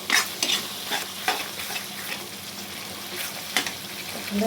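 Fish pieces fry with Kashmiri red chilli and turmeric in a pan, a close sizzle with repeated scraping and clinking stirring strokes coming every half second or so, louder at the start.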